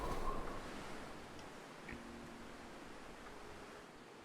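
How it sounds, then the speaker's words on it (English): Wind blowing across a desolate, snowy wilderness in The Long Dark: a faint, steady, hissing rush that fades slightly after the opening second, with no other sounds. "Windy right now."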